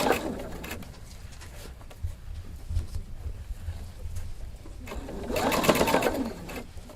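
A sewing machine with a flat felled foot stitches a flat felled seam, its raw edge curled into the fold as it feeds, running at a steady mechanical hum that swells louder near the end; faint bird cooing in the background.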